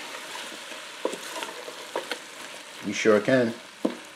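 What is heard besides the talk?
stirring canned corned beef in a pan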